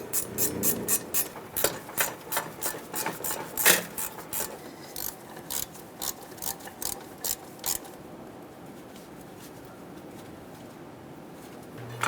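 Ratchet hand-starting exhaust manifold bolts on a 2011-2018 Ram 2500 with the 6.4L HEMI, giving a close, quick run of sharp rhythmic clicks in short bursts that stops partway through, leaving quiet.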